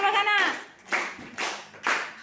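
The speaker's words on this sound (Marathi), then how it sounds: "त्यांच्यासाठी जोरात टाळ्या वाजवा." Children in a school classroom applaud in loud bursts: a long opening round of clapping, then three shorter waves of claps in quick succession, with voices mixed in.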